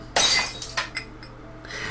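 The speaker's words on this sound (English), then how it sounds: "I need to fill this glass with water and drop it on the floor" A glass of water dropped onto a floor shatters in a loud sharp crash, followed by a few scattered tinkling fragments settling, with no voices.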